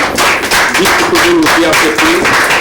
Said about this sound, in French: Applaudissements pour cette collaboration